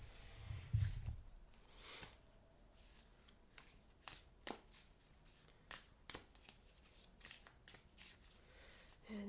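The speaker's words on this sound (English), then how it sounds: "stick around while I pull a few cards" Tarot cards handled and pulled from a deck on a table, soft repeated shuffling, sliding and tapping sounds, close and quiet, with irregular bursts and pauses and no talking.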